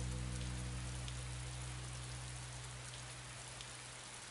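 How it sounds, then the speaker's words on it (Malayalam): Heavy rain pours down steadily in a dense, even hiss that stays loud and continuous throughout, with a low, constant hum underneath and no voices. "നല്ല മഴയല്ലേ?"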